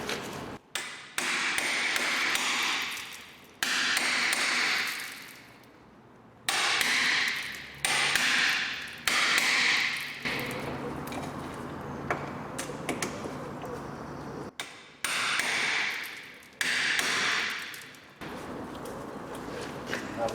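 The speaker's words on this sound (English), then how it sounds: "So we'll get an impact. Okay, impact driver. Phillips." An impact driver hammers at Phillips screws on the lower suspension of a Peugeot 407, in repeated loud bursts of a few seconds each, broken by short pauses.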